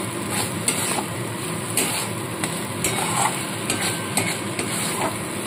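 Spice paste with melon seeds is stirred in a pan for a pointed gourd curry, with a steady sizzle broken by repeated scraping strokes of a spoon against the metal.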